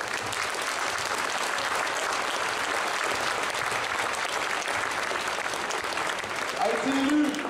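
A crowd at a Geneva vs Winterthur basketball game gives a loud, sustained thunder of applause for PC Winterthur, dense and steady throughout with cheering mixed in.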